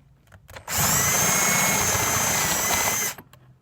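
A power drill bores a 5/16 inch hole in a guitar headstock for a tuner, a single loud, steady whine lasting about two and a half seconds, starting and stopping abruptly with quiet handling noise around it.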